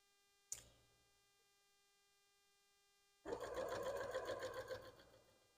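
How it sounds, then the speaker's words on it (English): A sewing machine runs in one continuous burst of about two seconds, stitching down quilt fabric for a curvy log cabin block, after a single sharp tap and a quiet pause. "let's go over to the sewing machine and get that sewn down"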